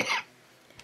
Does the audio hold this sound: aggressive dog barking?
no